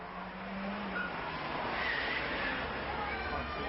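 Cars tear through the streets of Marseille during filming of a high-speed chase, engines roaring and tires squealing under a continuous rushing wash, with a voice talking over it.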